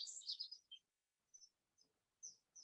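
A small bird sings quietly: a quick cluster of high, bright chirps, then short isolated tweets after a pause. The notes come out of near silence with no voices.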